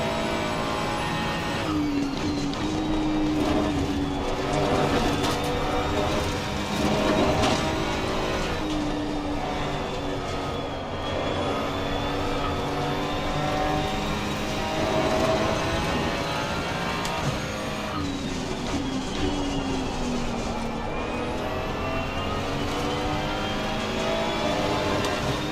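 Ford Mustang GT3 race cars battle in Assetto Corsa Competizione, a continuous loud engine drone with shifting pitch as cars accelerate and change gears close together, without talk.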